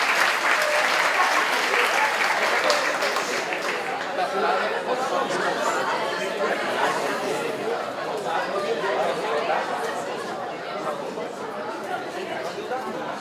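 A debate audience applauds the journalist moderator at a campus director candidates' debate, steady clapping filling the room for over ten seconds with crowd chatter mixed in beneath it.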